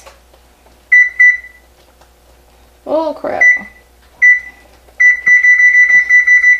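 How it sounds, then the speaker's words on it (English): Kitchen timer being set while baking a Southern caramel cake: short, close electronic beeps as buttons are pressed, then a quick run of repeated beeps, with a brief spoken remark in the middle. "So I'm going to go ahead and set my timer for 10 minutes."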